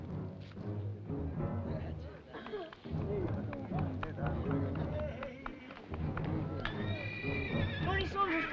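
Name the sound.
horses neighing in a western movie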